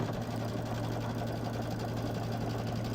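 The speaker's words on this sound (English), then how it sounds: "Let's sew from this side." A sewing machine runs steadily while stitching a nine-patch quilt block, giving a continuous close mechanical hum and fast needle chatter with no pauses.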